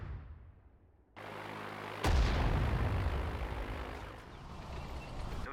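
Artillery fire in the Sudden Strike 4 multiplayer strategy game: after a quiet start a rumble sets in, then one sharp loud blast lands with a deep booming tail that fades slowly under ongoing low battle noise.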